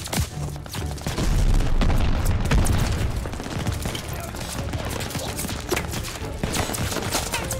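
Grenade blasts and gunfire in the Call of Duty Vanguard video game: dense, continuous battle noise with heavy booms early on and steady shooting throughout, loud and close, with a player's voice talking over it at times.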